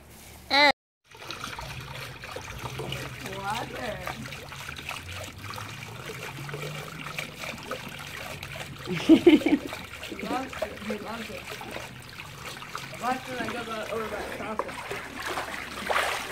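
A French Mastiff splashes and paddles through water, with steady trickling and sloshing and one louder splash burst partway through, while a person talks intermittently over it.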